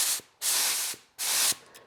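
Paint spray gun laying down coats in two long hissing bursts of about a second each, separated by brief pauses, close and loud.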